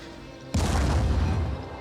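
A grenade goes off in the video game Phoenix Point: one sudden loud boom with a heavy low-end rumble that holds for about a second before tailing off, with no voices over it.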